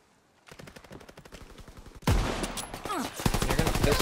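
Pistol and other gunfire in Call of Duty WWII: a rapid rhythmic run of sharp shots, then a louder, denser burst of firing with explosive blasts and chatter-like noise, near and steady through the end.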